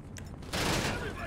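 Gunfire in GTA Online during the Cluckin Bell Farm Raid mission comes as a sudden dense burst of rapid shots that cuts in after a brief quieter moment.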